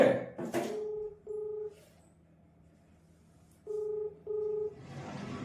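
A phone call being placed: a brief rustle and click, then two pairs of ringback tones, each a pair of short beeps separated by a long silent gap, fairly quiet and close.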